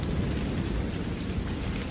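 A cartoon storm of pouring rain and rolling thunder, a dense, loud, unbroken roar of downpour with low rumbling beneath and no voices.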